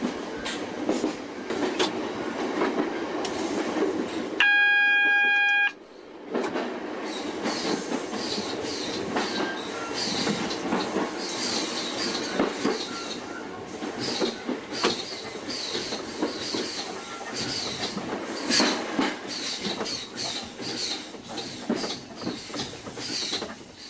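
Class 466 Networker train running along the Bromley North branch, steady rumbling and clickety-clack of wheels on rail, with a brief pure warning tone near the start, loud and continuous without speech.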